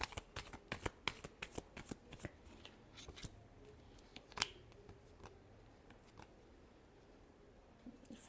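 Tarot cards being shuffled by hand: a quick run of crisp riffling snaps and flutters, loudest in the first half, then a quieter stretch of light rustling with no speech.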